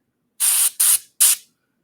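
An airbrush fed by an air line sprays paint in three short, even hissing bursts, close and alone with no talk.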